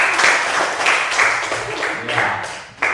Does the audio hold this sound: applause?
yes